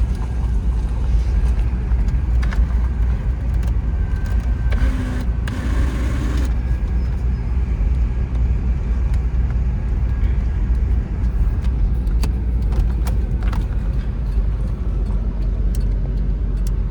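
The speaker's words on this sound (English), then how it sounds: "All right guys, so Corvette drove great." A C4 Corvette cruises on the road with the windows down, its engine a steady, loud low drone mixed with road and wind noise.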